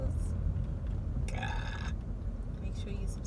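A single burp sounds in a quiet late-night room, brief and close, against a steady low background hum.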